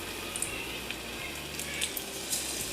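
Mushroom 65 pieces frying in hot oil in a kadai, a steady soft sizzle and crackle with faint bubbling pops, close and continuous without talk.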